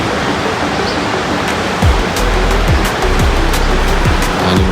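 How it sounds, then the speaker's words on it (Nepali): River water rushing past at Mugling, a broad continuous roar of flowing current, loud and close, with faint passing traffic sweeps underneath. "पानीमा सरर बगिरहेको छ मजाले।"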